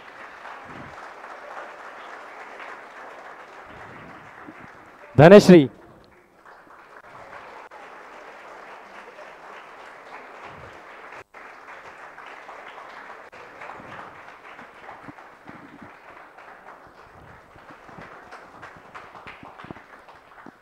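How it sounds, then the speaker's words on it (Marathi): An audience at a project competition award ceremony keeps up long, even rounds of clapping for a prize winner, interrupted once by a loud announced name, then continuing steadily to the end. "सायलीसाठी जोरदार टाळ्या झाल्या पाहिजे."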